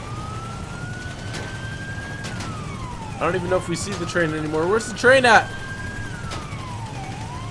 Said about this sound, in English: Let's turn off these sirens.